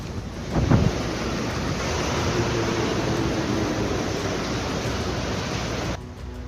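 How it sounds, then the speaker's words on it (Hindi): The swollen Tawi river in flood roars as a steady, loud, broadband rush of water with wind buffeting the microphone, continuous and unbroken until it drops off near the end. "लेकिन नदी के उफान की आवाज डरा रही है"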